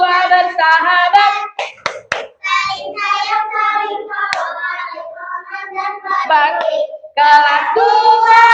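A second-grade class in Indonesia chants together in unison in a sing-song classroom cheer, with sharp hand claps punctuating the rhythmic voices near the mic.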